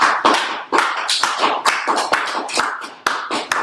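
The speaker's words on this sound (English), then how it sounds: "clap it up for Trooper" An audience clapping for Trooper, a brisk burst of sharp, close hand claps in a quick irregular rhythm that stays loud throughout.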